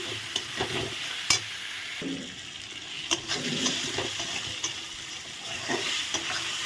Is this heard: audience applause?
no